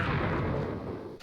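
A creeper blowing up in Minecraft, one loud close blast with a rumbling roar that fades over about a second.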